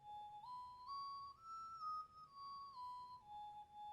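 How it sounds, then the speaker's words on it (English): Whistle-like synth loop from a sample-based beat, a single pure tone gliding up in steps and back down over a few seconds, quiet and alone. "I also have this loop that comes in, and it's another synth"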